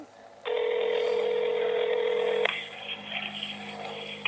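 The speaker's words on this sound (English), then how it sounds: "All right, we got an iPhone on Verizon. I can hear it ringing." Ringback tone heard over a phone call placed from an iPhone on the Verizon network, a single loud sustained electronic tone lasting about two seconds, followed by a fainter, wavering continuation on the line.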